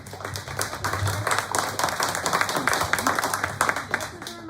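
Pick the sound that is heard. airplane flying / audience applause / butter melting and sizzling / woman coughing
audience applause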